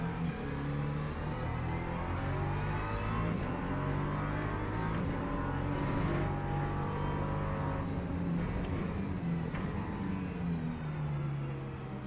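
LMP2 race cars in a racing video game on a wet Algarve track, with loud engine drone that swells and fades as cars go past, steady and continuous without talk.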